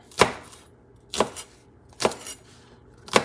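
Green onions being chopped with a knife on a cutting board, four separate crisp chops spaced about a second apart, close and clear with no talk.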